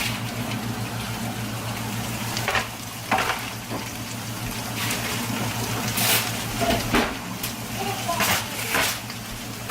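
Meatballs fry in a pan with a steady, close sizzle and crackle, occasional sharper spits and scraping stirs over a constant low background hum.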